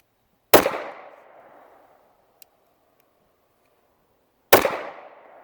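Two loud single gunshots from a Girsan Compact High Power pistol fired outdoors, sharp cracks with a fading tail, about four seconds apart, with quiet between them.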